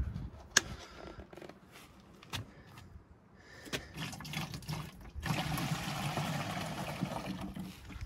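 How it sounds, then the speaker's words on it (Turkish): Tap water topping up liquid chicken manure in a jug, a faint splashing and pouring that grows steadier and louder in the last few seconds, after scattered clicks and handling noises. "Ve bunun üzerini normal suyla tamamlıyorum."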